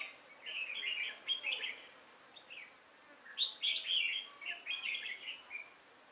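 Red-whiskered bulbuls chirp at a bird trap outdoors, bursts of bright twittering calls in irregular clusters, fairly near and clear with little else around.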